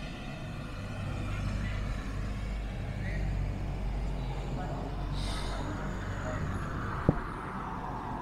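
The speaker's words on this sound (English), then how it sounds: "There's like a, there's a bus." A bus passes along a street in Armenia, Colombia, a steady low rumble of traffic drifting by at moderate distance with a brief hiss of air and a short sharp click near the end.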